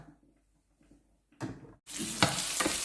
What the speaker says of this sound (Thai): ผัดพริกกับกระเทียมให้หอมเลยค่ะ